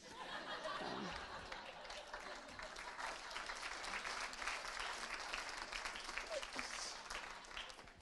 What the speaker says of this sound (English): It's strangely appropriate that it would get a clap.